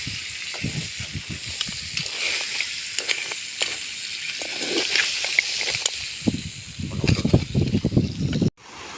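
Crab roast stirred in hot oil in a pan, with loud sizzling and repeated scraping stirs in an irregular rhythm, close up throughout before a sudden cut at the end.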